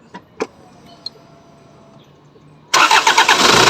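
A few faint clicks and taps in near silence, then a cold Hyundai Tucson engine with hard-starting and misfire trouble suddenly cranks and catches, roaring loudly and steadily from close by.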